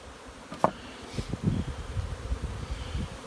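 Honeybees hum around hive splits in a busy bee yard, a soft, diffuse buzz with a few closer passes and light rustling, no talking.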